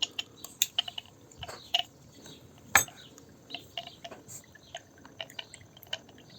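Sulfuric acid added drop by drop to a chilled benzilic acid reaction mixture, giving scattered faint ticks and drips with one sharper clink, quiet and close, with no talking.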